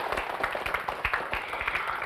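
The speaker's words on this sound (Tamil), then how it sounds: "அதற்காக ஒரு நல்ல கைத்தட்டல் நம்ம கொடுத்துடலாம்" Audience applause at a Tamil speech competition, a steady wash of clapping hands filling the whole stretch without a break, at moderate loudness.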